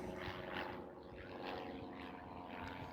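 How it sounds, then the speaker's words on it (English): An airplane passes overhead on approach to Santa Monica Airport, a steady, broad engine roar that fills the whole stretch and swells slightly, with no talk over it. "And there's the plane."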